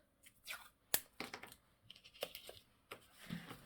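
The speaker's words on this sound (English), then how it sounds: "I am going to put some washi tape over it." Washi tape is torn in short bursts during a paper craft project, making faint, close, dry ripping sounds with small crinkles between them.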